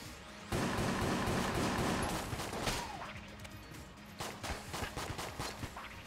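Rapid gunfire from the video game Enter the Gungeon, a loud sustained burst of overlapping shots and blasts, then a run of separate sharp pops toward the end.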